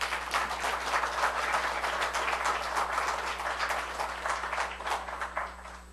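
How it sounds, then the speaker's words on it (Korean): Audience in a church giving welcoming applause to a guest speaker, a steady wash of many hands clapping that continues evenly throughout, moderately loud with no talk over it. "환영하는 박수로 맞아 주시기를 바랍니다"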